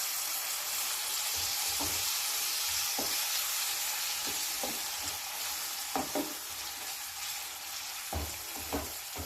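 Chopped tomatoes are stirred into fried onions in a hot pan for a fenugreek-leaf curry, a constant loud sizzle with scattered clinks and scrapes of the spoon against the pan, close and steady.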